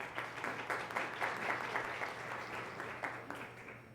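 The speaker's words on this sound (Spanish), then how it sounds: "Un aplauso, por favor." Audience applauding steadily at a business conference on artificial intelligence as a presenter is introduced on stage, a dense continuous clapping wash with no break across the few seconds.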